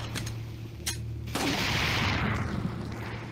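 A single sharp gunshot cracks in Resident Evil 4 VR, then a broad wash of noise hangs after it, following quiet ambience with a couple of faint ticks.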